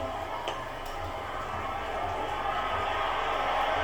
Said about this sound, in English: The crowd will tell you what this moment is all about as they await the first bell